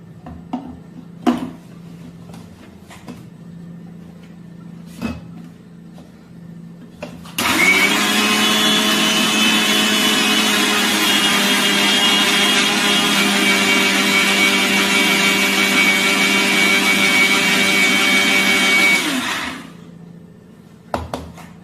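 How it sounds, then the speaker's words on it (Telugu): A mixer grinder runs for about twelve seconds, grinding homemade pitambari powder with a loud, steady motor whine. A few isolated knocks and taps from handling the jar come before and after. "ఇదంతా మిక్సీ జార్లోకి తీసేసుకుని మనం మిక్స్ చేసుకోవాలి"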